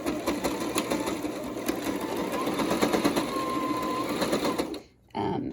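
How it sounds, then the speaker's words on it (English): Sewing machine stitching down both edges of an ironed, accordion-folded cloth medical mask, running steadily and fairly loud for about five seconds before a brief stop and restart. "Now we're going back to the sewing machine."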